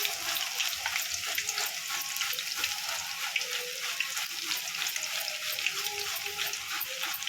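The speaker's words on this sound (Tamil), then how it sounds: "இந்த வாழைக்காய் எல்லாத்தையும் நல்லா பொரிச்சு எடுத்தாச்சு" Raw banana slices for chivda deep-fry in hot oil with a constant crackling sizzle and bubbling, steady and fairly soft, with light clinks of stirring.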